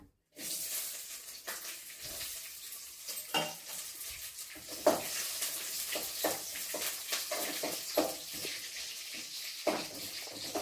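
Hot tempering tips into a pot of tamarind-leaf dal and sizzles loudly at once, then keeps frying with a steady crackle while a spoon stirs and clinks against the pan.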